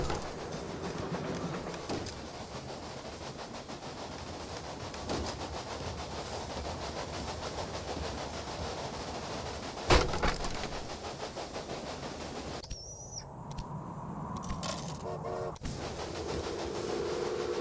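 Train running on rails in the Railway Empire video game, a continuous rumbling clatter with rhythmic clicking, a sharp knock partway through and a tonal shift near the end, heard alone.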